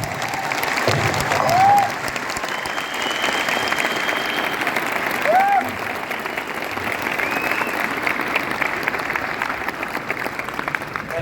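Seminar audience clapping steadily for about eleven seconds, a dense even wash of many hands filling a hall, swelling briefly near the start and again midway, with a couple of faint whistles over the applause.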